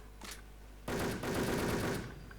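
Automatic gunfire in the online shooter Wolfteam, with a short shot, a pause, then a dense, loud sustained burst of rapid shots lasting about a second before trailing off.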